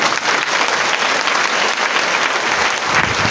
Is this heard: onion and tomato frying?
no